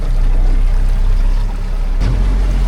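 Fishing boat motoring along at trolling speed, about 7 km/h, a steady loud engine drone mixed with rushing water and hull splash, continuous and close, with a brief shift in the wash near the end and no voices.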